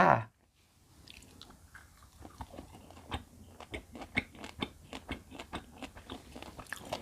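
Someone eats assorted dried fruit close up, with one sharp bite followed by a steady run of crisp, rhythmic crunchy chewing that grows slightly louder, and no talk.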